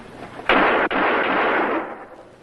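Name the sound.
pistol shots in a radio drama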